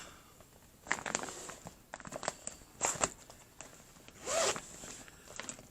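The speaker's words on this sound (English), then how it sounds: "I love these plastic cases with the little zipper." A zipper runs in several quick pulls along a plastic yarn storage case, close and crisp. There are short pauses between pulls and light rustling from handling the case.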